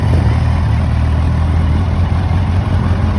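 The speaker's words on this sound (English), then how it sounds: "Fairly quiet when she's running idle" A 2021 Kawasaki Ninja 1000SX sits at idle, its engine giving a loud, close, steady rumble that holds even for the whole stretch with no revving.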